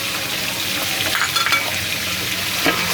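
Cloves frying in oil in a pot as the base for Afghani pulao, a steady close sizzle holding the whole way through with a few brief stirring scrapes and no voices.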